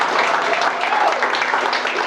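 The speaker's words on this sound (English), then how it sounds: "so a big round of applause for them." A crowd at a youth-led placemaking makeover event claps in a dense, steady burst of applause that holds throughout.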